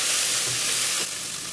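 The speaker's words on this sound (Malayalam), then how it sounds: "നന്നായിട്ട് മിക്സ് ചെയ്യാം." Egg fried rice stirred and sizzling in a hot pan, a loud close frying hiss with scraping stir movements, no voices.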